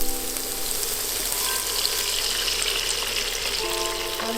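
Sweet and sour sauce hitting a hot pan for Chinese sweet and sour fish, a loud continuous hiss and bubbling sizzle that holds steady throughout without speech.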